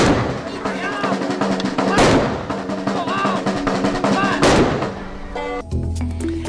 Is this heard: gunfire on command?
yes